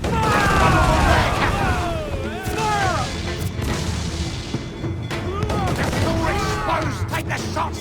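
Pirate ship cannons boom during a naval battle in Assassin's Creed 4 Black Flag, heavy repeated blasts and crashes over a busy sea-fight din, with crew voices shouting orders throughout.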